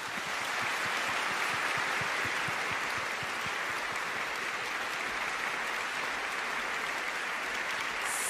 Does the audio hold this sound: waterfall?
no